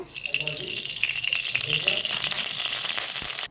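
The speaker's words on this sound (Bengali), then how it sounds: "কড়াইয়ের মধ্যে আমি সরিষার তেল দিয়ে দেবো।" Mustard oil crackles and sizzles in a hot wok, a steady frying hiss with some rattling that continues under a person talking, then cuts off abruptly at the end.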